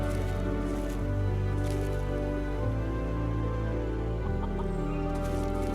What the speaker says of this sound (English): Over here we have some chickens